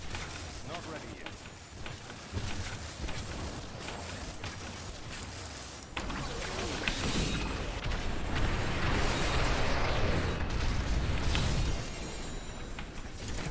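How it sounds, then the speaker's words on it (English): Heavy rumbling blasts from a pile of explosions in Diablo 3 Reaper of Souls, a dense, continuous wash of booms that swells louder in the second half. "I'm still not comfortable just standing in a big pile of explosions like that."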